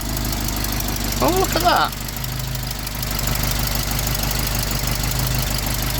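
An Austin Allegro engine idles while warming up, a steady low hum close by with a faint rhythmic tick, and a voice speaks briefly over it.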